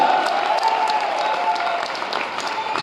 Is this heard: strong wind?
no